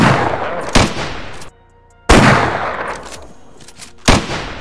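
Rifle shots in the survival game DayZ, three loud close cracks spaced a second or two apart, each with a ringing tail and short silent gaps between.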